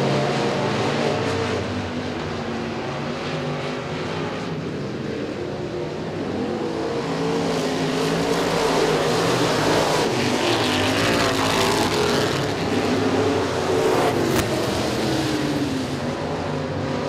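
Pro stock race cars roar around the oval at Stateline Speedway, a dense continuous engine drone with rising and falling revs as cars pass, loud and steady throughout.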